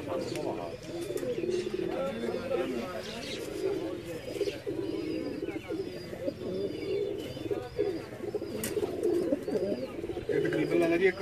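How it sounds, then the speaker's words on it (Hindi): Pigeons coo repeatedly close by, a soft steady murmur of calls with chirps mixed in, while people talk in the background throughout. "कबूतर का पट्ठा है कोई"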